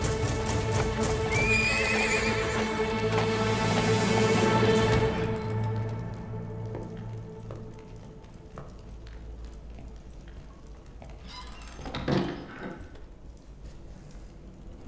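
Horses whinny and neigh loudly with quick hoofbeat clip-clops in a dramatic period battle scene, the busy sound fading into quieter movement before another short neigh near the end.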